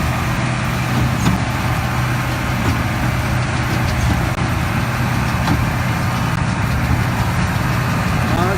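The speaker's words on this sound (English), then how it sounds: "A nice song from the Massey Ferguson." A Massey Ferguson tractor engine runs steadily with a continuous low diesel drone and rumble, loud and close, holding an even note with no breaks.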